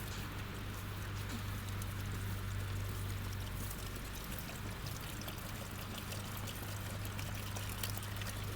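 Water poured out for goats, a continuous splashing wash of sound that holds steady and fairly faint throughout, with no voices.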